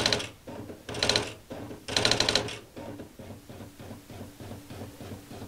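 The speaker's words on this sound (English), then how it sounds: "that's the typewriter printer that I've been working on" An IBM Wheelwriter 6 typewriter modified to work as a printer strikes out characters in rapid mechanical bursts, with three loud clattering runs followed by quieter, evenly spaced ticks and carriage clicks.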